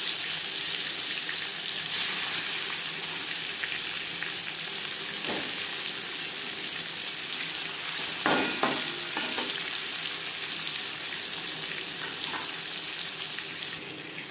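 Hilsa fish frying in oil in a pan, a steady loud hiss of sizzling that runs throughout, close up, with a few brief clinks and stirring knocks and no speech.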